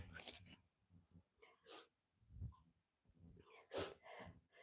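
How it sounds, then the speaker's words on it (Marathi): A woman sneezes in a home kitchen while preparing laddus, with short bursts of breath and sniffing around a sharp sneeze near the middle and another near the end, close and fairly loud between quiet moments. "मला शिंक येते, सॉरी."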